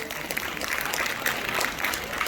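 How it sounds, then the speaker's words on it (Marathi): Close, dense applause from an audience at a district-level science exhibition prize ceremony, steady and unbroken throughout with no voices standing out. "जोरदार टाळ्या वाजल्या पाहिजे"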